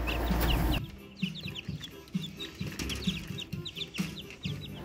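Brazilian Rapido chickens and newly hatched chicks make repeated soft clucks and high cheeps near the listener, with brief wing flaps. A burst of loud noise opens the sound before the birds carry on steadily.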